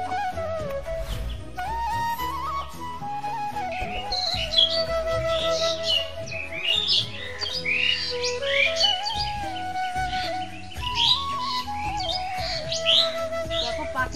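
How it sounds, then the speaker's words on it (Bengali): Several birds calling around a rural household, bright chirps, whistles and squawks overlapping continuously near and loud over a steady outdoor hum, with no talking. "দেখো পাখিগুলো কি সুন্দর ডাকছে"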